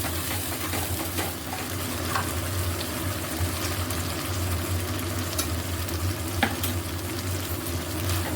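Spices, with Kashmiri chilli, fry in a pan for a sweet corn and potato dish, making a steady close sizzle with occasional scraping stirs and light clinks throughout.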